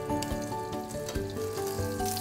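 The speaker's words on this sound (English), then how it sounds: "Prawns in. Just want to saute that for a little bit." Prawns sauté in butter in a pan, a short busy sizzle and crackle with a couple of light knocks, close and without speech.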